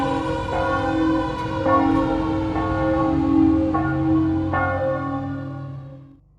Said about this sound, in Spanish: La campana de la iglesia sonó cada vez más deprisa.